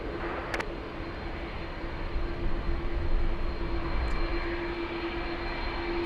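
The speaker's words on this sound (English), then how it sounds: "Next arrival is the A350 1000 flying in from Heathrow" An Airbus A350-1000 airliner on final approach at LAX, arriving from Heathrow, gives a steady, moderately distant engine roar with a faint high whine, building slightly midway and holding without speech.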